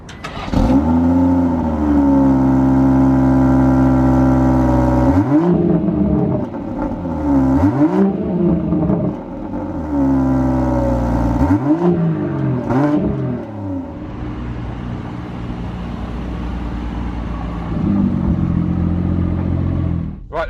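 A 2018 BMW 440i Gran Coupe LCI drives and accelerates, its engine rising through repeated revving sweeps for several seconds before settling into a steady cruising drone, loud and close.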